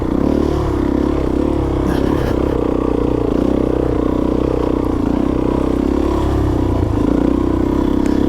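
A Suzuki DRZ400 dirt bike labouring up a difficult climb on Idaho mountain terrain, its engine droning steadily with wavering low pitch as the throttle shifts, close and continuous with faint clatter and no talk.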